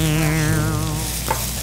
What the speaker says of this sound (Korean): 우리가 야채를 넣고 지금 기름을 볶았잖아요